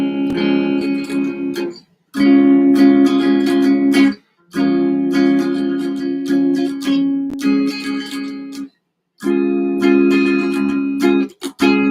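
Guitar strumming inside chords in an intermediate practice session, sustained chord phrases rung out in several bursts separated by short pauses, loud and close with no talking.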